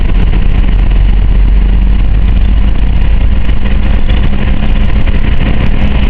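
A car's engine runs while driving down a road, giving a loud, steady low rumble with road noise that holds evenly throughout, with no talking.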